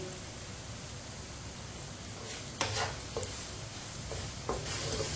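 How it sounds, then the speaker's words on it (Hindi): Whole spices frying in oil over a very low flame while being stirred with a spoon, a steady soft sizzle with a few brief scraping clinks of the spoon, close up and alone. "इसी तरह चम्मच चलाते हुए पकाएं।"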